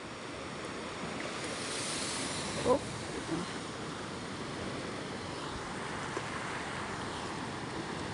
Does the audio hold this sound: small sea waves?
yes